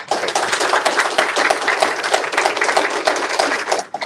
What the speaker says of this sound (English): Let's give another round of applause for Senator Padilla